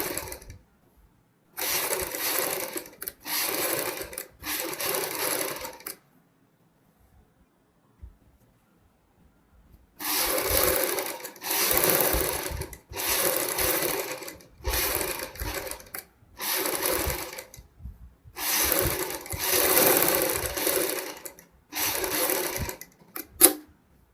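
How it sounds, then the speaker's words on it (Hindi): A sewing machine stitches piping onto buckram for a sleeve in repeated loud, close bursts of rapid whirring, separated by short pauses and one longer silence. "बुकरम के ऊपर हमने सिलाई लगानी है।"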